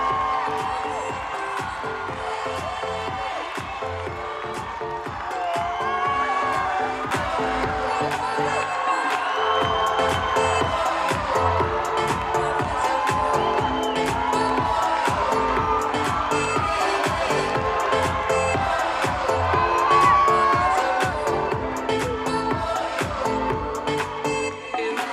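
A pageant audience applauds and cheers for the Reine du Muguet candidates in Compiègne, with steady, dense clapping and occasional whoops sustained at a loud, even level throughout.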